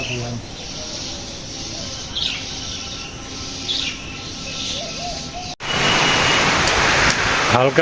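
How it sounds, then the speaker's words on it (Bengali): Light rain falls steadily in a village, a continuous close wash of drops that grows louder and denser toward the end, with faint bird chirps in the background. "বৃষ্টি হইতেছে অনেক সময় ধরে আকাশে মেঘ ছিল"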